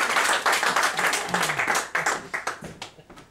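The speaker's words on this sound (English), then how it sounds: "Give me a round of applause to go back to the lines." An audience at a comedy psychic mind-reading show gives a loud, dense round of applause that thins into scattered individual claps and fades out toward the end.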